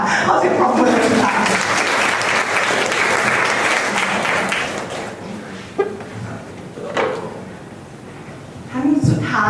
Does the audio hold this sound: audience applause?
yes